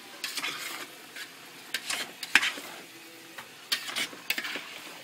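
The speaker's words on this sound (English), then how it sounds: "So we add the tomatoes, and now we just stir them in." Tomatoes being stirred into eggplant and zucchini frying in a pan, with soft sizzling under a series of scraping, clattering utensil strokes against the pan.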